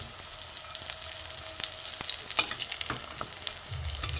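Bitter gourd kebabs frying in a small amount of oil in a pan, a continuous close sizzle with occasional crackles and pops, alone without voices.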